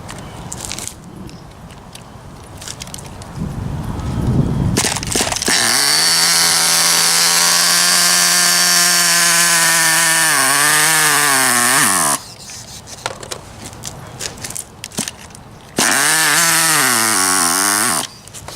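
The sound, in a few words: Redcat Racing Shockwave nitro RC car engine running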